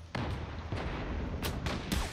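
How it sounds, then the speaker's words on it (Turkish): A grenade detonating in the online shooter Zula, a sudden loud burst followed by several sharp broadband bangs in quick succession, close and without speech. "Oh, iki üç kişiye birden patladı bomba."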